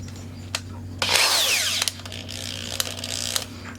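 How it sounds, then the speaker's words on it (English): A power drill with a small bit spins up briefly against a two-inch painted earring, a close buzzing whir lasting under a second, surrounded by scattered clicks and handling noises. "Hook it up to the drill."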